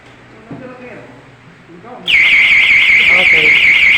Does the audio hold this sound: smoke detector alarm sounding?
yes